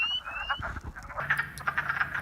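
Wood frogs call from a vernal pond in soft, rapid, duck-like clucking croaks, a faint chorus of overlapping calls with no talking.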